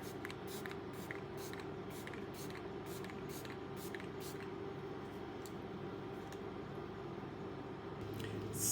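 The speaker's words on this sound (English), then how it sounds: "I'm gonna use this spray and I'm just gonna spray my face" A face mist spray misted onto the face during a makeup routine, heard as a series of short, soft hissing bursts in quick rhythm over a steady low background hum, close by with no talking.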